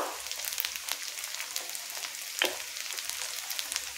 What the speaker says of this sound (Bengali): আদা রসুনটা ভালো করে ভাজা হয়ে গেছে